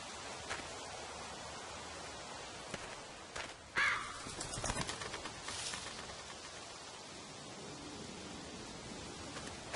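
Crow-like caws from a bird in The Walking Dead video game, a short burst of harsh calls near the middle over a steady hiss of ambient background noise, with no voices.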